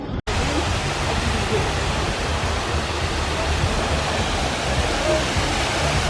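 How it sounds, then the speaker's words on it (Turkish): Waterfall at a mosque in Egypt, a steady, loud broadband rush of falling water that fills the whole clip without pause, with no speech over it. "Burada böyle şelaleler var arkadaşlar."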